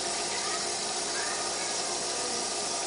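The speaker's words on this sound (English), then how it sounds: "And run some water in it." Tap water pours steadily into a container for a wheatgrass kit at home, a continuous full hiss of running water with no pauses and no talking over it.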